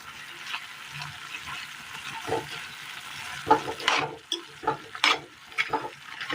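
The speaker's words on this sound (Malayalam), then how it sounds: "ഇനി ഇതിലേക്ക് നമ്മൾ മൂപ്പിച്ചെടുത്ത മസാല കൂടി ചേർത്ത് കൊടുക്കാം. നന്നായി മിക്സ് ചെയ്യാം." Fried masala being stirred into a Kerala curry in a pot, with a steady low sizzle under repeated scraping and stirring strokes that grow louder and more irregular toward the end.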